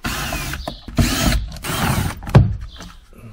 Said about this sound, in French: je vais dégager un des boulons qui tient ce panneau intérieur